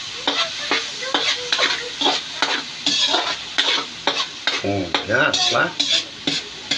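Pancit ingredients, including liver, sautéing in a hot pan, with repeated scraping stirs of a utensil over a continuous sizzle, close and fairly loud, as a voice speaks briefly.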